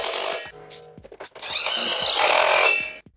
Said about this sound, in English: We'll go slowly without forcing it and see the screw come out the other side since we can access the track.